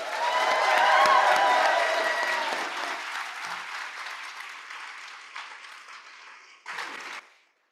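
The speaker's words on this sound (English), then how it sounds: "give a raucous romance reader round of applause for the library" Enthusiastic crowd applause at a library romance author event, loud at first and gradually tapering off, with a brief final flurry of clapping before it stops.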